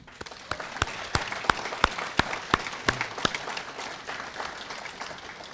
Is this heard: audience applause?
yes